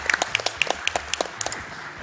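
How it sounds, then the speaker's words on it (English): One person claps by hand in a quick, even run of sharp claps, close and moderately loud, during a Super Castlevania IV speedrun at the Awesome Games Done Quick 2016 event. "Yeah, I'm clapping for that."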